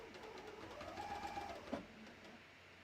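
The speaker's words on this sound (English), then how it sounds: "And then I'm going to start serging." A serger stitches rib knit onto a sweater, a soft steady machine whir close by and faint, with a brief clunk near the end.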